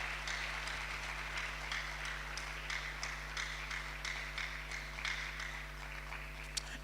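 Continued audience applause at a book launch for a colonel, a steady wash of many hands clapping with a few sharper individual claps, over a constant low hum.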